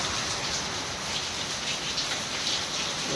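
Heavy rain pours down in a steady, even hiss, a dense wash of falling water with no letup and no voices over it.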